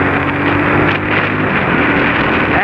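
Motorbike revving hard in first gear for a quick launch: a loud, steady, close engine roar that holds at high revs throughout, with some wind buffeting on the microphone.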